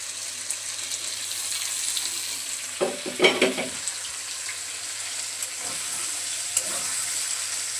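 Chicken pieces fry lightly in a pan with a soft continuous sizzle, interrupted by a few brief clattering stirs of a spatula near the middle, fairly quiet overall with no talk.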